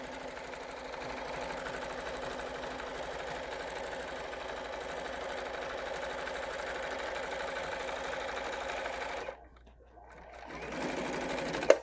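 A sewing machine stitches a quilt-as-you-go table runner with a fast, steady motor whir and needle chatter for several seconds, then stops abruptly near the end.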